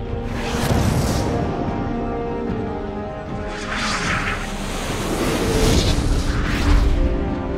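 Warning gunfire in a trailer for the film Hijack 1971: deep booming blasts and rumbling roars swell and fade under a dense soundtrack, loud and close.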